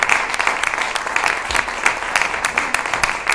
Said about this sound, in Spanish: Fuerte la aplauso.